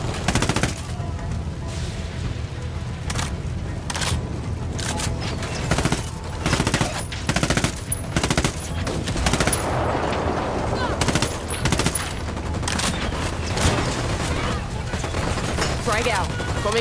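Sustained gunfire in the video game Ghost Recon Wildlands, with rapid repeated shots and bursts throughout, loud and close with a few heavier impacts, and people talking over it at times.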